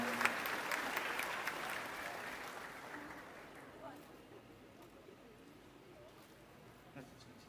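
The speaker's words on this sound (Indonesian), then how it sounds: "Tepuk tangan dulu dong teman-teman." An audience applauds at a school gathering, the clapping loudest at first and then thinning out. It is faint and distant, with pigeons cooing nearby and a few voices in the background.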